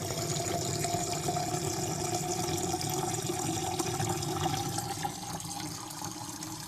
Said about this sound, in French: alors je mets mon eau filtrée.